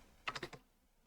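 Four quick, light keystrokes on a computer keyboard in a short burst, faint and close, followed by quiet, entering commands during a Cisco router configuration lab.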